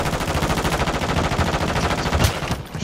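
Rapid automatic gunfire from a video game shooter, a dense continuous burst of loud shots running throughout with a few heavier impacts near the end.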